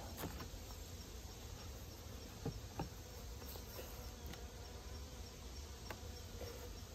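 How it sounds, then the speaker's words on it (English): A low, steady hum of many honey bees buzzing together in an open hive, close and continuous, with a few individual bees droning past more loudly now and then. "Ton of bees."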